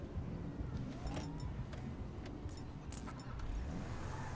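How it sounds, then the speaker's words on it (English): A car engine in the Grand Theft Auto V video game, a steady close-up drone of the car driving with a few brief revving surges and no talk. "I'm gonna take this car right here."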